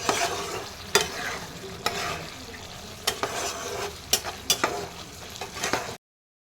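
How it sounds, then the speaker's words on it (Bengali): Potatoes for a vegetarian aloo dum are stirred in a frying pan, with a steady sizzle under a run of sharp scrapes and knocks from the spoon against the pan, several clustered near the end. "এবার ভালো করে এটা নেড়ে নেব।"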